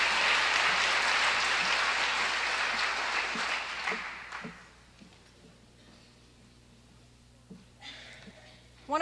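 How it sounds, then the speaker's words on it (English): A large audience at a 1984 Copyright Office celebration claps for contributing groups, loud at first, then thinning to scattered claps and fading into quiet room noise with a few stray sounds at the end. "Let's give all of these groups who've made significant contributions to the Best of 84 another round of applause, please."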